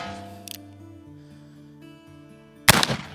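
A single sharp gunshot from an original Rogers & Spencer revolver cracks out loud and close near the end, after a quiet stretch with a faint click.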